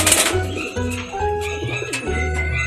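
Racing pigeons at a derby loft in San Narciso, Quezon, coo in low repeated throaty phrases, close and fairly loud, with faint chirps and rustling around them and no talk.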